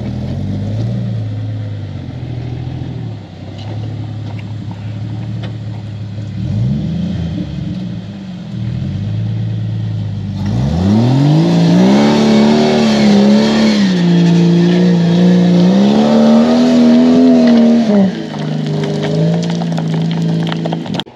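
A modified 1994 Jeep Wrangler YJ buggy, cut and chopped, idles with a low rumble, then its engine climbs into loud sustained revving that rises and falls in pitch for several seconds, close by and with no talking.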